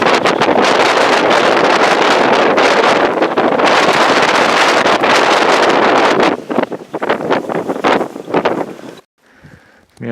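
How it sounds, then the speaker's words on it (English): Ferocious wind in a whiteout snowstorm on the summit of Hailstone Butte roars loudly against the microphone as a constant blast, then breaks into gusty bursts before dropping off briefly near the end. "Brutal, ferocious wind."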